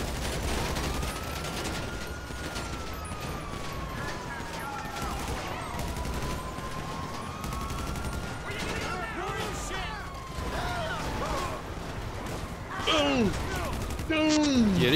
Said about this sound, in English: Yeah, they are shooting me right now.